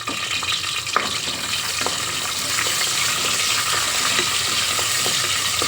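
Steady frying sizzle of onion and curry leaves tempering in a pan, with occasional light clinks of a spoon stirring, continuous and fairly close, no voices.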